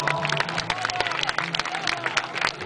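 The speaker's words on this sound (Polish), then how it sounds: "Słowa i brawa dla nich, proszę Państwa." An outdoor crowd at a bridge-side duel show applauds the two local fighters, a dense scatter of claps mixed with cheering and crowd babble, with voices in the crowd throughout.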